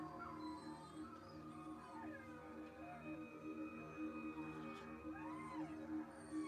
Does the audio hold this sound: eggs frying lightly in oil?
no